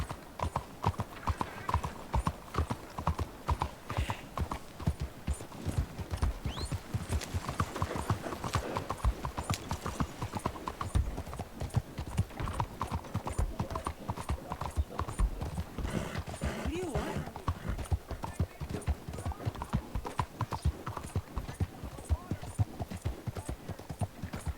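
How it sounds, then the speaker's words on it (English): Steady clip-clop of a horse galloping in Red Dead Redemption 2, a fast continuous hoofbeat rhythm held close for the whole stretch, with a voice talking over it in places. "Olha meu cavalo aqui."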